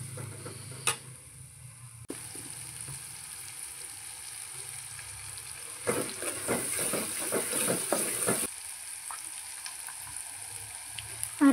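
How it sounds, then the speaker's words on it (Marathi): Ground spice paste sizzling as it roasts in a hot pan for potato bhaji, a soft frying hiss that swells into busier crackling midway, then settles back, with occasional utensil ticks. "एक 2-3 मिनटं हे वाटण व्यवस्थित आता आपल्याला भाजून घ्यायचं आहे"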